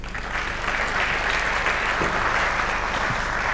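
Steady applause from a conference audience greeting panelists on stage at a 2020 summit on innovation and UAE competitiveness, a dense, even wash of many hands clapping at close range for several seconds without pause.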